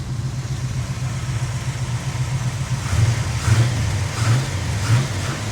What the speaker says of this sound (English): Engine sounds very healthy.